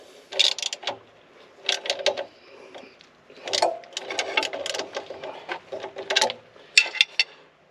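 Track tension being tightened on a CAT 299D3XE compact track loader, heard as quiet, intermittent ratcheting clicks and metallic turning in short bursts separated by pauses.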